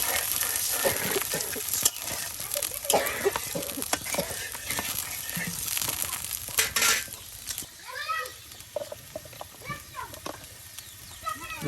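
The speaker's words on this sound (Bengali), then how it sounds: "কুচি ও বাটা মশলা একসাথে সব তেলের সাথে ভেজে নেওয়া হচ্ছে" Chopped and ground spices frying in oil in a village Bengali kitchen, heard as a steady close sizzle with stirring, scraping and clinks of a spoon against the pan, with a voice talking over it.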